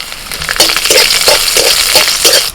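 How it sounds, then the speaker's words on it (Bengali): Garlic, slit green chillies and black cumin seeds frying in oil in a pan, a steady close sizzle with a repeating rhythm of stirring strokes every half second or so, no voices. "রসুন আর কাঁচা লঙ্কাটা একটু ভেজে নিয়ে"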